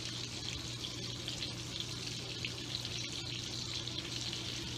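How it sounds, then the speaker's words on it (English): A quiet, steady sizzle with soft crackling hiss of hot dogs frying in a pan, continuing evenly throughout without any voices. "You can hear them sizzling."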